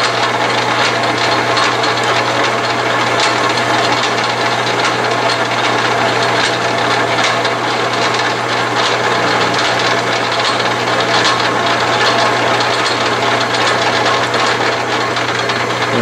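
An Atlas/Craftsman 12-inch metal lathe running steadily while cutting a thread, a continuous loud mechanical hum and whir with faint scraping that holds evenly throughout, with no talking.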